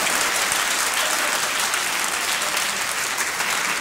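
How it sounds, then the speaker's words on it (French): A theatre audience at a 1990 comedy show welcomes a guest with loud, dense, continuous applause that holds at full strength throughout. "nous l'accueillons ce soir dans un tonnerre d'applaudissements"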